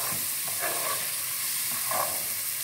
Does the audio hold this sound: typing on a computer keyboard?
no